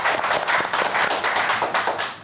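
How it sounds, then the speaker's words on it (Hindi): A studio audience at a Pakistani singing contest claps in a lively burst of applause for a contestant, a dense fast patter of hands sustained throughout without voices. "जोरदार तालियां"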